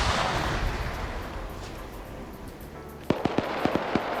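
A grenade goes off in a one-life PvP video game match: a string of sharp, loud blasts and cracks bursts out late, rising above a dense, rumbling background of battle noise.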